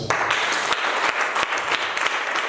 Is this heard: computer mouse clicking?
no